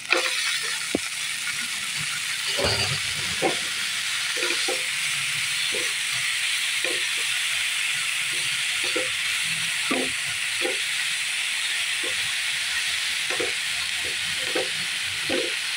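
Chopped vegetables sizzling in a hot pan as filling for paneer cabbage rolls: a steady bright hiss of frying, punctuated by regular scraping and clicking of a spatula stirring, close and clear with no talk.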